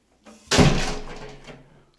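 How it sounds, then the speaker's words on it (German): A house door swings shut with a soft scrape, then a single solid, resonant thud that fades out over about a second. "Türe zu."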